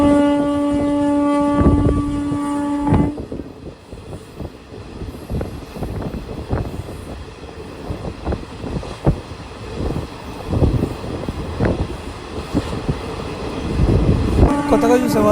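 A passenger train on the Markapuram–Guntakal line through the Nallamala forest departs, its horn sounding at the start and end around a stretch of clanking, rattling wagon noise and wind buffeting the microphone.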